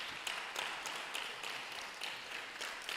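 An audience at a community donation ceremony in Abura, Ghana claps in a steady, moderately faint wash of applause, with a few sharper claps standing out and no one speaking over it.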